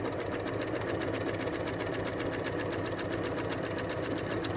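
Sewing machine running steadily as it stitches down a seam on an upcycled denim jacket, a continuous close whirring drone with no pauses and no voices.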